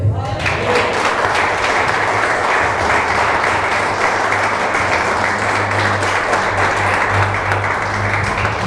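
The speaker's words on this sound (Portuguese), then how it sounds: "E as palmas aí." A church congregation applauds during a Portuguese-language evangelical service, producing steady, dense, loud clapping that fills the room without pause, with low background hum underneath.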